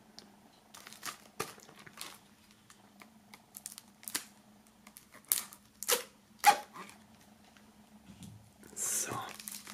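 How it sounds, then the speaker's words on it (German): A shrink-wrapped music album box set is pulled out of its plastic foil, giving scattered crinkling and tearing rustles with a steady low hum underneath and a louder crackling burst near the end. "Dieses noch eingeschweißt. Bedeutet, wir werden das Ganze mal aus der Folie holen."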